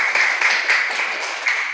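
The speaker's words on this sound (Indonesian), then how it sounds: "Bagus, tepuk tangan dulu." Students in a classroom clap together during a fractions lesson, a brief, loud burst of dense, bright clapping that holds steady for under two seconds with no talking.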